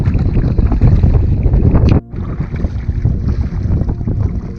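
A kayak paddle works through choppy Mississippi River water, with loud close splashing and sloshing over buffeting wind noise, broken by a brief dip to near quiet before the churning resumes.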